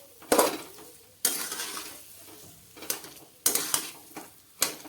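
Potato chutney stirred in a pan on a gas stove, with sharp spoon scrapes and clinks against the metal at irregular intervals over a soft sizzle, close by.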